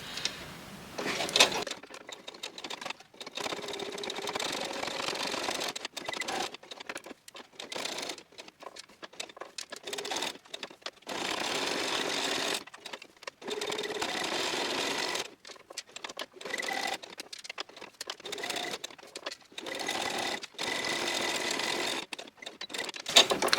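A sewing machine stitches tiny stitches right along the edge of a fabric envelope, whirring in short bursts broken by brief pauses, close and clear.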